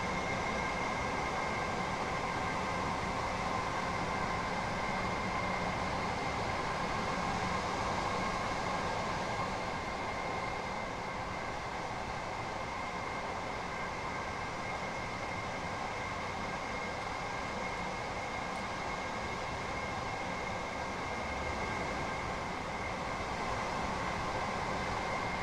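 Train running at speed on the East Coastway route in the video game Train Sim World 2020, a steady rumbling roar with rail hiss and a faint whine, continuous and unbroken throughout.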